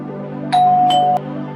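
An automatic school bell built with an Arduino, an IR sensor and an ISD1820 voice playback module sounds a clear electronic ding-dong chime. It holds one sustained tone for just over half a second over a low background hum.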